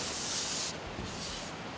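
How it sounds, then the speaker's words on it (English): Steady, close rasping of a soft sanding block worked by hand across urethane primer surfacer on a flat car hood panel, a continuous gritty hiss with slight strokes in its texture. "you take our soft sander, and I can perfectly block this inner coat here"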